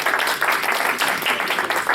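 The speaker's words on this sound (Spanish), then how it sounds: "Aplausos." Applause from an audience at a church teaching class, a dense, even wash of clapping filling the whole moment at close range.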